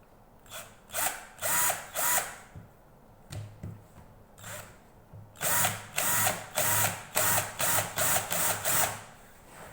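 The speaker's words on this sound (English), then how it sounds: "So I've already taped off my drill bit so that I know how deep to go with the holes" A power drill whines in repeated bursts as it bores depth-marked holes into very hard wood for a mountain dulcimer, short pauses between each loud, close run of the motor.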